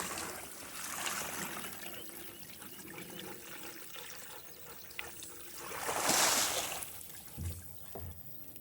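Water dumped out of a container and trickling into mud, a low wet pour that swells briefly and fades, followed by a couple of soft splats, recorded at a distance and faint.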